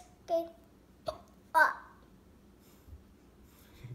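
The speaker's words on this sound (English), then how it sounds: "You got hiccups." A child hiccups several times in a quiet room, three short sharp jolts close together in the first two seconds, then softer faint sounds and breathing.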